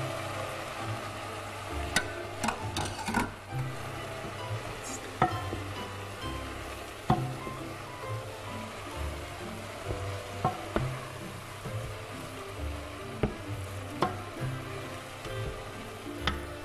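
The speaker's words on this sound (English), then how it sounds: "Stir it until there's no stock left." A spoon stirs vegetarian risotto in a pan as stock cooks in, giving a soft steady sizzle broken by irregular scraping clicks against the pot.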